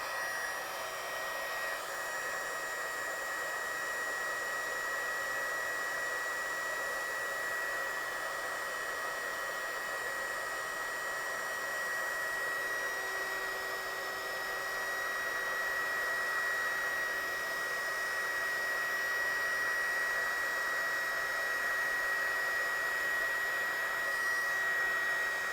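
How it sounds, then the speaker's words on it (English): Heat tool running steadily for heat-setting stamped watercolour ink, a constant, even hairdryer-like whoosh and hum that carries on unchanged for the whole stretch. "I'll just heat this one up, heat set this one."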